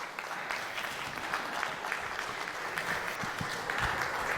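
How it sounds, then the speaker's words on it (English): An audience at a medical association's AGM and scientific conference applauding, with dense, sustained clapping from many hands that continues evenly and never fades out. "Please keep clapping for her."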